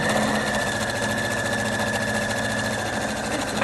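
Sewing machine with an open-toe presser foot stitching fabric for a girl's ruffled skirt, a steady, continuous mechanical whir and rapid needle rhythm running close and loud throughout, with no talking.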